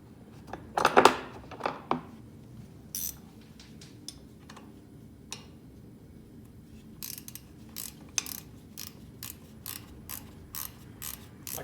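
A wrench ratcheting on a fuel line fitting of a David Brown tractor, a burst of metallic clatter early on, then quieter sparse clicks followed by a steady run of close, evenly spaced ratchet ticks, no talk.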